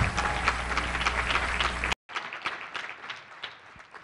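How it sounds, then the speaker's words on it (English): An audience claps for a group of speakers, with loud, dense applause that cuts off abruptly partway through and then continues as quieter, scattered clapping. "So let's give them a round of applause."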